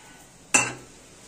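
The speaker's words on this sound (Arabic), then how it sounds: "كده انا هشيل كده المقلايه عشان احط الثوم" A frying pan used for lentil soup is moved off the stove with one sharp metallic clank and a short ringing tail, close and clear against a quiet kitchen.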